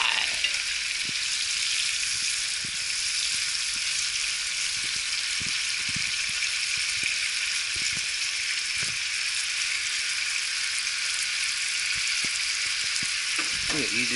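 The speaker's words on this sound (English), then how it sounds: "just frying the chicken" Chicken pieces frying in hot oil for a crispy lime and coconut chicken dish, a steady, even sizzle holding throughout with a few faint clicks and knocks, and no talking.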